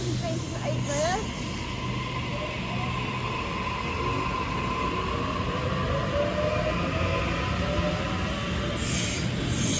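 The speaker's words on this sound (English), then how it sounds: "We have 40 trains in 8 minutes." A Sydney train runs past a suburban station at Cheltenham during the afternoon peak, making a long continuous rumbling rush with faint wheel squeals early on, heard steadily from fairly close for the whole stretch.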